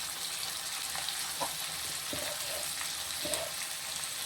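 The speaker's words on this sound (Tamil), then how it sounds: "இப்போ இது வதங்கிறது கொஞ்சம் மஞ்சள் பொடி போட்டுக்கணும்" Tomato and onion sautéing in a pan for drumstick gravy, a steady close sizzle with a few soft stirring scrapes and taps.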